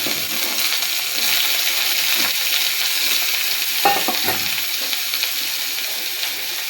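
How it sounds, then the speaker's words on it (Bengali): Eggplant pieces hit hot oil over fried garlic and green chilies, a steady loud sizzle with a few clanks and scraping stirs of a utensil in the pan. "বেগুনটা দিয়ে দেব তেলের মধ্যে।"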